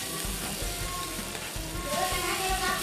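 Tomato, onion and green peas fry in a pan for a cauliflower-potato paratha filling, giving a steady close sizzle with low thumping stirs underneath.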